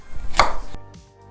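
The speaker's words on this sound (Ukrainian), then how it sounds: "Також нарізаю моркву на міленькі кубики" A single sharp knife chop on a cutting board while dicing carrot into small cubes, crisp and close, followed by a brief quieter tap and near silence.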